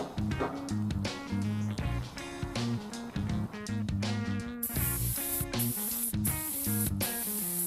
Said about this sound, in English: I used what I had left in the spray can for the base colour